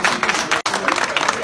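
An audience applauds at a book presentation ceremony in Montréal, a dense burst of clapping that dips briefly at mid-clip and then resumes.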